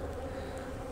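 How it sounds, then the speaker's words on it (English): Bees and yellow jackets swarming around a liquid sugar feeder outdoors before cold weather, a continuous close buzzing drone, fairly loud with no speech. "we're getting some bees up in here"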